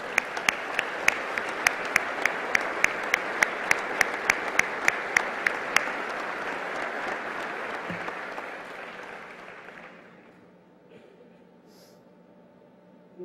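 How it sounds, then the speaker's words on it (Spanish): A large audience at a state governor's annual report address breaks into sustained applause, steady and dense with a few sharp claps on top, then gradually fades out to near silence. "Un aplauso para todos ellos."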